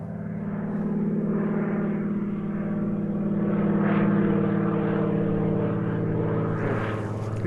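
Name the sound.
float plane flying overhead in Alaska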